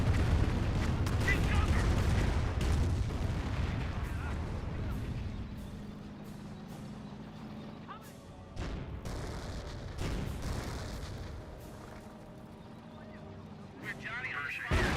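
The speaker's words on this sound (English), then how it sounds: "5 rocket barrage shooting on in." Rocket barrage firing in the Company of Heroes war game, a rumbling burst of launches and explosions up front, followed by scattered booms and crackling impacts with a few sharp hits later on.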